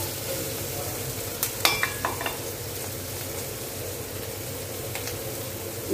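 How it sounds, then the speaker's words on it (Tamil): Onion and tomato sauté in a pan, a constant close sizzle with a few brief scraping stirs of a spoon against the pan, no voices. "இந்த பக்கம் வெங்காயம் தக்காளி வதக்கி தருக்குங்க."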